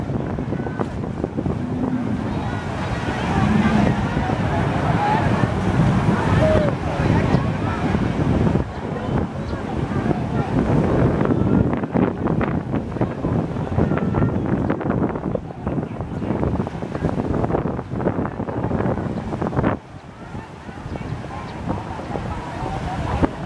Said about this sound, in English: Other than the wind, it's a beautiful morning.